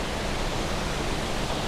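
Lumb Hole waterfall pours in a steady, dense broadband rush, constant and fairly loud, with no other sounds and no voices.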